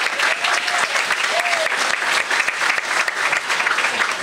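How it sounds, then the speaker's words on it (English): An audience at a civic history talk claps in a dense, steady burst of applause that stays loud and continuous throughout. "Can we give David a round of applause?"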